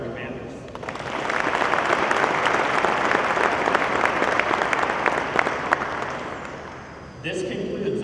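Audience applause at an Air Force change of command ceremony for the 366th Medical Group honorary commanders, a loud sustained crowd clapping for about six seconds before fading into a brief voice.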